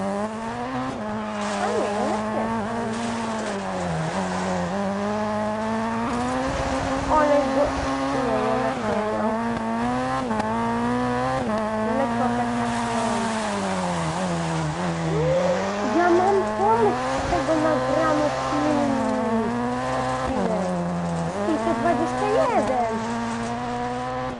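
Ford R5 rally car on test, engine revving up and down in rising and falling sweeps with gear changes, loud and steady throughout, with occasional tire noise.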